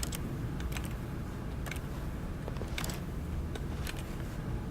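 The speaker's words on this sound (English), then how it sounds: "Why does it sound like I'm pressing keys" Keyboard key presses come from the video game The Stanley Parable, a scatter of sharp, irregular clicks, several close together, over a constant low background hum.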